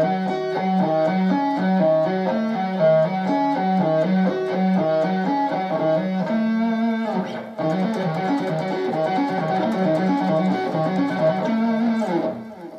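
Electric guitar with a distorted tone playing a slow hybrid arpeggio lick, evenly spaced single notes stepping through altered minor-seventh chord shapes, clear and up close with no talking.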